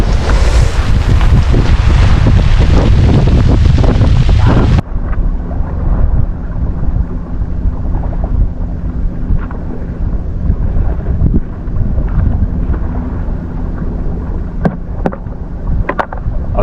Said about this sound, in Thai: ขึ้นลมดีๆแบบนี้